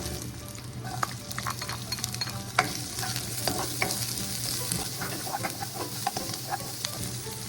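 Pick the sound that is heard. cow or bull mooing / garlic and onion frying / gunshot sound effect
garlic and onion frying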